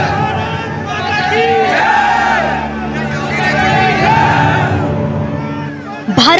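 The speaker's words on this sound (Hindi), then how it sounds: "भारत माता की जय के नारे लगा रही इस उन्मादी भीड़ ने एक एसओ की जान ले ली" A frenzied crowd chants Bharat Mata ki Jai slogans, a loud surging mass of voices rising and falling in waves, with a sharp bang at the very end.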